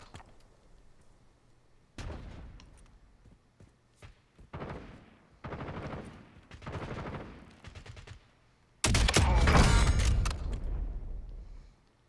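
Gunfire in Call of Duty Warzone on Verdansk: scattered single shots and short automatic bursts, then a loud sustained volley near the end, all fairly close with no talk.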